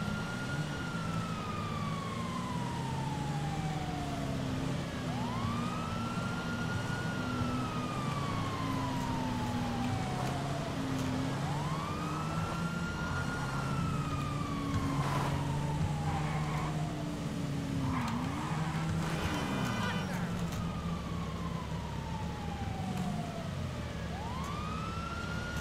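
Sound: police sirens during a car chase in the video game GTA 5 Online

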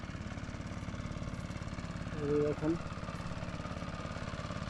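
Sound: motorboat passing on a village river

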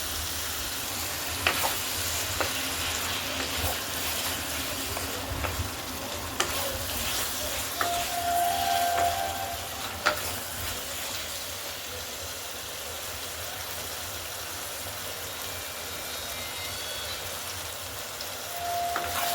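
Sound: spices frying and being stirred in oil

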